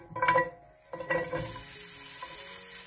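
Sliced onions hit hot oil in a pan with a sharp sizzle, then settle into a steady, bright frying hiss. There is a brief stir near the start, and no talking.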